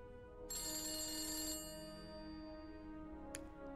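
An old-style telephone bell rings in The Beast Inside, one sustained metallic ring followed by a lingering tone and a brief second chime, faint and without voices.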